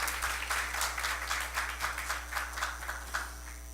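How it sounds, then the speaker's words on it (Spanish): An audience at a conference on judicial reform in Latin America gives a warm welcome round of applause to the speaker, rhythmic clapping that is moderately faint and steady over a low hum before trailing off. "le damos un fuerte aplauso de bienvenida a Santiago para que exponga acerca de la prueba"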